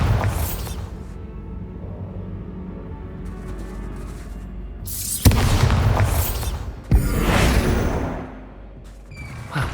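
Bombarda spell blasts in the Hogwarts Legacy video game: loud booming explosions with a sharp crack, then a second burst and rumbling debris, over a low ambient game drone.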